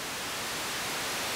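A Moog DFAM synthesizer puts out steady, loud, unvarying noise that is not truly white, a continuous hiss with no other sound.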